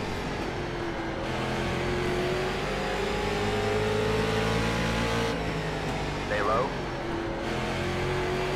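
A Street Stock race car engine in iRacing at Slinger holds a steady, loud drone that rises slowly in pitch and then eases, with a brief squeal near the end and a driver talking over it.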